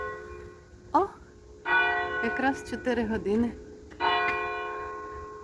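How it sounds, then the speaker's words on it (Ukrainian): Church bells ring out at four o'clock while strolling through a village in the Netherlands, struck in sustained, near bursts with someone talking briefly between them. "І дзвонять нам дзвони."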